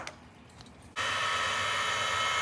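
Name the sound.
25mm motor cooling fan spinning on Mojave Grom RC car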